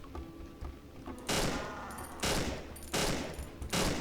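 Rifle fire in the video game Cry of Fear, loud repeated blasts in three or four heavy bursts, each with a long ringing decay, spaced roughly a second apart.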